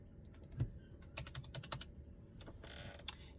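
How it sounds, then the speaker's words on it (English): Soft, quiet typing on a computer keyboard, a scattered series of light key clicks over a low background hum, with no voices. "I'm going to type in tree."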